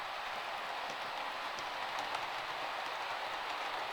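Model Class 57 locomotive running smoothly along a model railway track, a steady soft hiss and rolling rumble with faint clicks, quiet and continuous with no talking.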